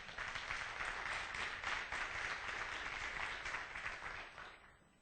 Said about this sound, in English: she actually deserves a round of applause.